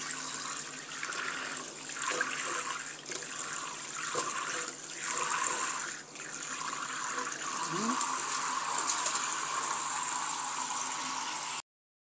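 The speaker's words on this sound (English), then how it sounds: "So guys, yeah, I'm washing my rice" Water runs steadily from a tap while rice is washed, a constant rushing splash with a few brief dips and small clinks mixed in.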